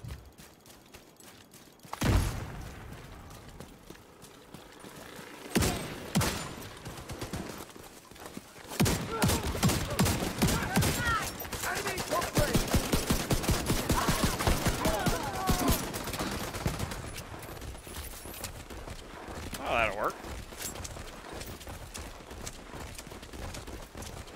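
Shotgun fire in the video game The Division 2: a few sharp, loud blasts early on, then a dense run of rapid gunfire bursts with mechanical clatter, with sporadic shots trailing off afterward.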